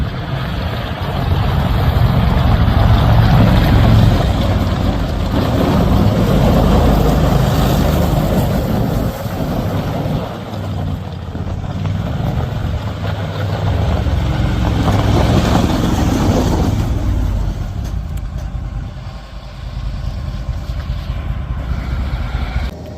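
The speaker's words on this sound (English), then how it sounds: "Even the winch works on this." Winch on a restored 2004 Argo Avenger 8x8 amphibious vehicle running steadily alongside the engine, a continuous loud mechanical drone with low rumble that holds for most of the stretch and eases slightly near the end.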